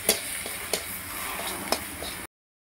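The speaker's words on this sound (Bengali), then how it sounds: "এবার ভালো করে মশলাটাকে একটু কষিয়ে নেব" Spice paste for shukto sautés in a pan, a soft continuous sizzle broken by a few sharp scrapes of a spoon, then cutting to silence near the end.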